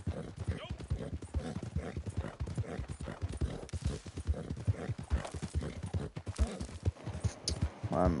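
Horse hooves clip-clopping in a video game, a steady rapid rhythm of hoofbeats running throughout with some rough background noise.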